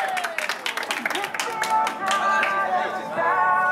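Guests at a husband's birthday party in Itaim Paulista clap together in a quick, uneven patter that swells into fuller applause, with voices chattering over it.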